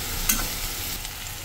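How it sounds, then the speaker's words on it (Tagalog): Braised fish maw being stirred in a pan with rice wine: a brief, soft scrape and light sizzle over a steady low hiss, fairly faint. "Ilagay na natin yung rice wine. Haluin natin ulit."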